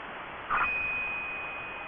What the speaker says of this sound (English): I'm going to give you a 2-bell ringer